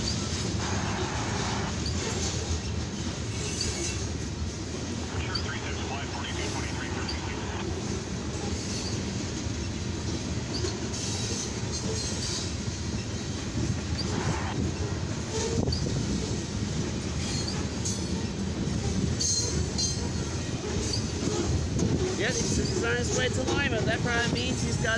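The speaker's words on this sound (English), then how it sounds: "Yep, this is a mixed freight train." A long eastbound mixed freight train rumbles past steadily, wheels clattering and occasionally squealing over a constant heavy roar.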